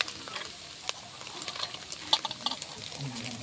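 Shredded cabbage and carrot are sautéed in a pan for a home-style chicken rice. They give a soft, uneven sizzle with scattered clicks and scrapes of a stirring spoon, fairly faint and close by.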